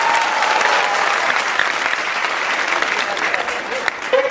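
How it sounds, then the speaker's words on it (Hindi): Steady, loud applause from an audience at a school's tenth-class results ceremony at a science academy in Gangapur City, a dense continuous roll of clapping with no pauses. "जोरदार तालियां"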